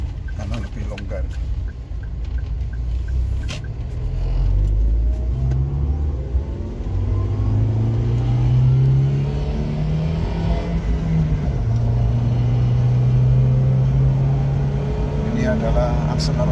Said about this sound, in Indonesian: Ini adalah akselerasi yang betul-betul cepat.